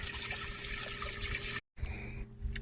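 Water pours steadily into an off-grid soaking tub in the desert, a loud continuous rush that cuts out briefly for a moment and then resumes, with a few small clunks.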